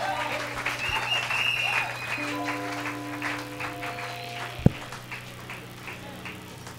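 A church congregation at a Sunday service applauding the preacher, a sustained wash of clapping from many hands that fades gradually over several seconds, with a single sharp knock partway through and steady tones beneath.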